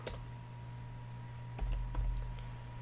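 Keys tapped in quick bursts on a computer keyboard while writing VB.NET code in Visual Studio 2010, close and fairly quiet over a steady electrical hum, with a slightly busier patch of clicks toward the end.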